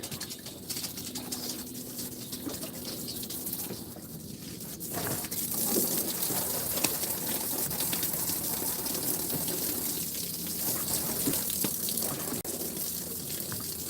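Water gushing and splashing as blood is rinsed out of a fishing boat outdoors, a steady rushing stream that grows louder midway, with birds calling in the background.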